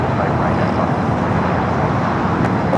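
A Virgin Boeing 787-9 Dreamliner arriving at LAX from London Heathrow sounds as a loud, continuous, even engine roar close by, with no break across the short stretch.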